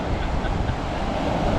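Rough winter sea waves wash onto a French beach, a steady broadband rush of surf mixed with gusty wind noise, loud and close, with no talking.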